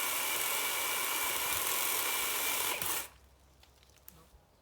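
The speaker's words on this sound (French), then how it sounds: "je vais repasser sur la tronçonneuse" A budget battery chainsaw cutting wood gives a loud, steady motor whine for about three seconds, then cuts off abruptly, leaving quiet background with a few faint knocks.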